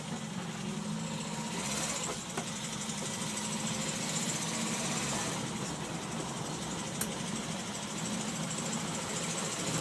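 An Opel Kadett B with an OHV engine hums steadily while driving, with a constant low rumble and broadband road noise and a faint irregular rattle running through it, with no talk.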